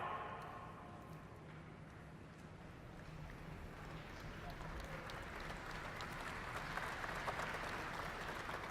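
A large conference audience applauds continuously, a faint, distant wash of clapping that grows slightly stronger toward the end.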